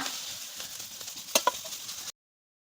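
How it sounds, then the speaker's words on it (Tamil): A spoon scrapes through coconut-laden masala frying in a pan, giving a soft continuous sizzle with a couple of sharp clinks of utensil against the pan before it cuts off. "இப்போ தேங்காவை சேர்த்து கொடுத்துக்கோங்க சேர்த்துட்டு கிண்டி கொடுத்துக்கோங்க"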